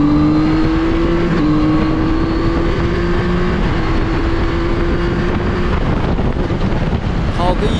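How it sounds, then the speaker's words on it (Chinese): Zontes 703F motorcycle at speed on the road, its engine droning steadily with a quick upshift heard as an abrupt pitch drop, all under strong wind rush against the microphone. "再给兄弟们听一下这快排的声音吧"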